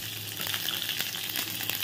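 Bitter gourd leaf fritters fry in a small amount of oil, giving a steady, close sizzle with light crackling bursts throughout and no voices.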